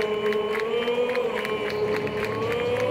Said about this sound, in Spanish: Los aplausitos también, ¿viste?